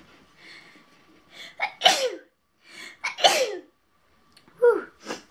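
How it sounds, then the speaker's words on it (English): Someone sneezes close up, three sharp bursts spaced about a second and a half apart, each preceded by a quick inhale, in an otherwise quiet room. "I'm about to sneeze, so hopefully I don't."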